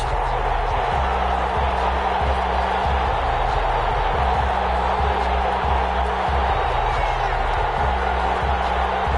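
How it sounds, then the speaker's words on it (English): An NFL stadium crowd at a Washington football team versus Atlanta Falcons game gives a continuous murmuring roar, with a repeating low tonal pattern running underneath. "This crowd is ready"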